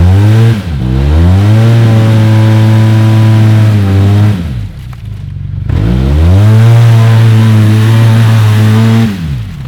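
A UTV engine revving hard and loud as it digs into sand on an off-road trail in Canada, with two sustained high-rev bursts separated by a brief drop.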